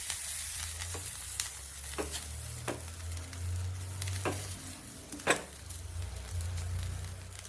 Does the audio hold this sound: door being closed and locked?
no